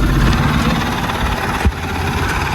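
A Mahindra Supro vehicle engine running in first gear gives a steady, loud, low rumble throughout, with a brief bump partway, and no talk over it.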